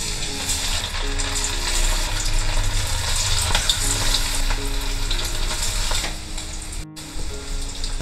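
Prawns for a dragon prawn starter deep fry in oil with a loud, steady bubbling sizzle that stays dense and close throughout, briefly dropping out near the end.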